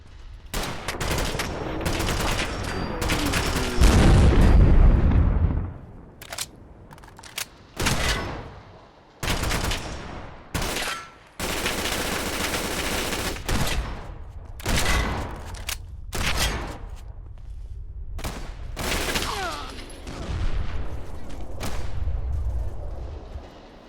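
Video game gunfire from Fallout 4, with dense, loud bursts of rapid shots and booming blasts broken by short pauses, close and continuous throughout.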